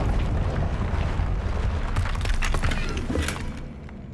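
Confringo spell blasting through a barrier in the video game Hogwarts Legacy, a sustained roaring blast with crackling, shattering debris that fades out at the end, loud and close.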